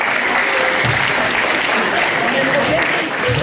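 Sustained audience applause at a public meeting on police violence and the right to protest, loud and even, with a voice faintly audible underneath the clapping.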